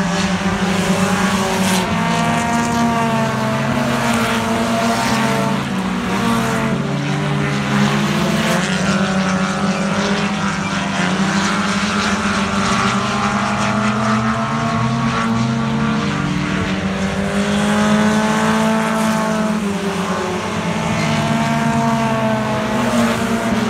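Race cars roaring around the track in a dirt-track feature race at Morden, several engines droning together at a steady, loud pitch with shifting overlapping tones and no talk.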